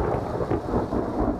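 Thunder from a storm that is moving away rumbles low and continuous, a rolling boom with steady rain hiss behind it and no voices.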